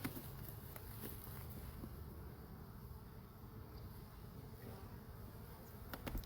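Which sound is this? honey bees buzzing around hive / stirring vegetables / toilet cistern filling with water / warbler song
honey bees buzzing around hive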